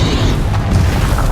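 Bombarda spell in the Hogwarts Legacy game, a deep booming blast with a rumbling low-end tail that fills the whole moment, loud and close.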